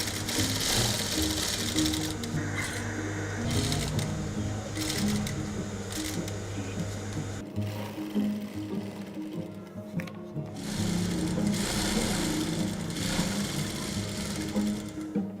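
A sewing machine stitching textile scrap fabric into a doormat, with a steady, fast mechanical rattle that runs in long stretches, pauses briefly, then resumes, and faint background voices underneath.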